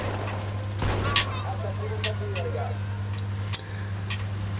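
Shotgun fire in the Halo 2 video game, one sharp blast early followed by a second later, set against constant game background tones and a low hum.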